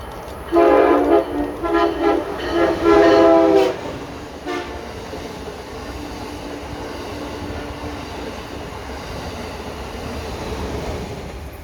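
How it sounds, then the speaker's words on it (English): A train pulling into a station platform sounds a loud sustained horn for about three seconds, then fades into a steady low rumble of railcars rolling past. "Train approaching. Please remain behind yellow line."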